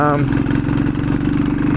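A Yamaha SR500 single-cylinder motorcycle idles steadily after being kicked over, a loud, close, even thumping beat with a brief higher tone at the very start; a voice speaks faintly over it.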